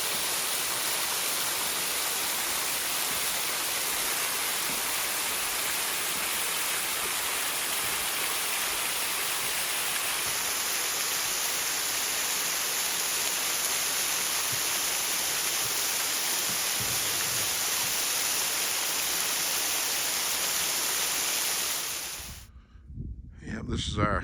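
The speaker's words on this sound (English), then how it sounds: "I'll show you the waterfalls here in just a second." Steady broadband rushing of a waterfall at a campsite, loud and constant for most of the clip with a thin high whine over part of it, then cutting out abruptly near the end.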